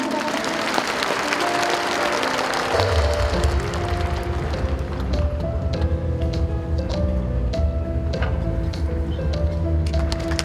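Warm audience applause fills a hall at a ceremony marking the 100th anniversary of Kim Dae-jung's birth, steady dense clapping sustained throughout with low murmur beneath.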